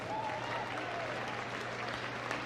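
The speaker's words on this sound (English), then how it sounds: "A big round of applause for the Beagle." Steady, dense applause from a large crowd at Crufts 2014 dog show during hound group judging, greeting the Beagle; even and sustained throughout, with a low hum beneath.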